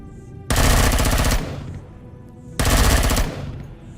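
Automatic gunfire in the survival game Empyrion Galactic Survival: two loud, sustained bursts of rapid shots, each close and lasting about a second, separated by a short lull.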